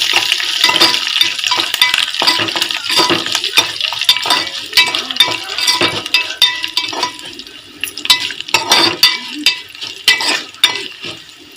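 Spices and curry leaves sizzle and crackle in hot oil in a pan for a Telugu drumstick-leaf, sesame-flour and toor dal curry, with steady frying hiss broken by stirring scrapes and clinks, close and continuous.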